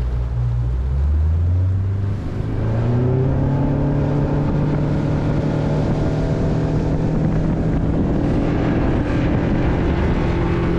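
A motorboat cruises steadily across a Minnesota lake on a perch fishing trip, its engine drone loud and continuous with rising pitch at the start, wind buffeting the microphone throughout.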